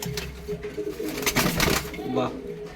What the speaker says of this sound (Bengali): এটা এমনি একটা ক্রসের পায়রা